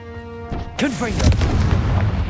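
In Hogwarts Legacy, a Confringo blasting curse bursts with a sudden boom after a short spell-cast voice, followed by a rumbling, crackling blast tail that stays loud to the end.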